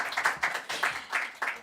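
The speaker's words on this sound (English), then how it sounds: "Might I ask for a big round of applause to my panelists" Audience applause for conference panelists, a steady patter of many hands clapping at moderate distance, swelling in several overlapping bursts with no talk over it.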